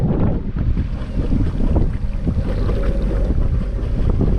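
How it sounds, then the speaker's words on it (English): Wind blows hard over a sailboat at sea off the Alaska Peninsula, a constant loud rushing buffet on the microphone with low rumbling gusts throughout and no voices. "A little bit difficult, the wind straight on the bow, sort of deviating me off course with the low speed."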